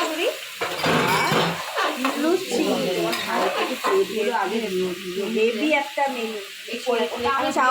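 Breakfast cooking in a pan in a home kitchen, with steady sizzling and frying plus stirring scrapes, heard under continuous nearby talking throughout.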